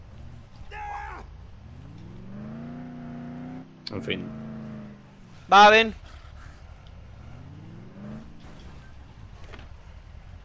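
A car in the Dead Island video game drives and revs, its engine tone rising and falling in several sweeps with sharp clunks in between, while people talk in Spanish over it.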